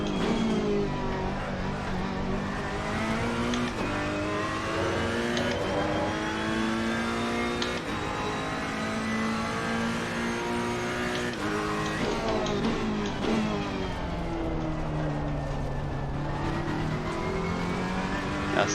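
A GT race car engine in Assetto Corsa Competizione at the Nürburgring, revving hard and climbing through the gears in repeated rising sweeps, loud and steady for the whole stretch, with faint tire noise and only brief talk.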